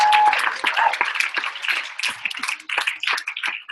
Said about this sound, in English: A big round of applause for our leaders.